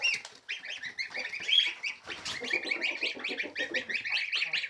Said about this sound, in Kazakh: Міне қаздарым.